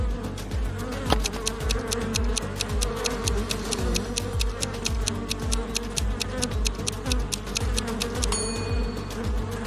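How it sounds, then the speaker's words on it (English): An angry swarm of bees near a lake shore buzzes loudly and continuously, a dense droning hum with fluttering wingbeat pulses, close and unbroken with no voices. "What do you think is more dangerous in this situation? A bear or a swarm of bees?"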